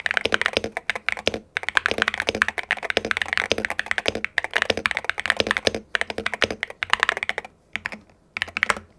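A budget custom mechanical keyboard clacks under fast, close typing, with bursts of crisp keystrokes broken by short pauses and occasional heavier thocks from larger keys.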